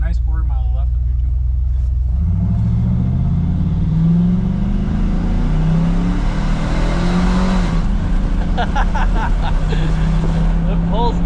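A car engine fitted with a Texas Speed camshaft revs on a dyno, a loud steady drone that climbs in pitch as it pulls toward 5,000 RPM. Voices talk over the engine.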